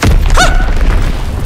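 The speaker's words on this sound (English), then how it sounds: "Enemy bomb incoming, get to cover!" An enemy bomb explodes in the Call of Duty WWII video game, a loud booming blast with a sweeping whistle-like tone near the start, followed by a sustained low rumble.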